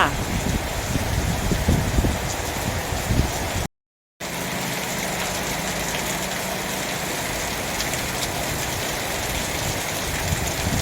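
Heavy rain and strong wind lash a house in Ban Phak Bung, Kanthararom district, Sisaket province, during a storm. A continuous broadband roar stays steady throughout, broken once by a brief total dropout.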